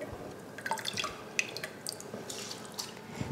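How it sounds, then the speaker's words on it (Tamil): Water poured into rice in a cooking pot for peas rice, with soft dripping and trickling splashes that run steadily and quietly throughout, fairly close. "தண்ணி ஊற்றி அரிசி போட்டு உப்பெல்லாம் கலந்துட்டோம்."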